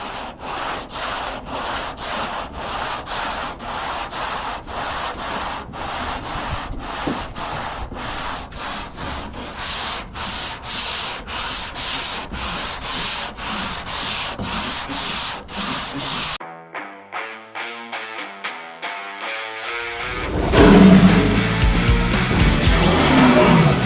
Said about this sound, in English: I'm going to be using 180 grit so I can start sanding that door.